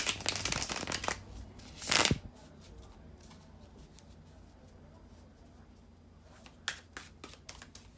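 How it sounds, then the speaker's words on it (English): Tarot cards are shuffled by hand in a few brisk riffling bursts, crisp and close, separated by quiet pauses, with no speech in between. "bear with me a second, guys, to shuffle the tarot cards"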